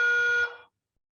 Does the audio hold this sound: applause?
no